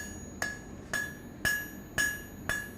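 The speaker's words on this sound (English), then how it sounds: "hammering two sides" A 600-gram hammer forging a steel taper on the edge of an anvil: five evenly spaced, sharp metallic strikes, each ringing briefly before the next, loud and close with no voices.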